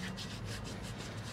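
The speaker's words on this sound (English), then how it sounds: "rubbing it into that cast iron there" Gloved hands rubbing seasoning oil into a Lodge cast iron camp Dutch oven, a soft steady scrubbing friction that pulses in repeated strokes, close and quiet.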